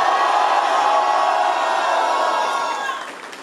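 Loud, steady crowd roar of cheers and whoops at a rap battle, the Paraná state round of a national MC duel, rising as one dense wall of noise before easing off in the final half second.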